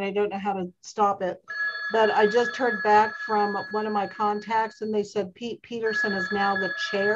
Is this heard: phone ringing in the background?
yes